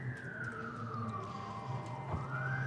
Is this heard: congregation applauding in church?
no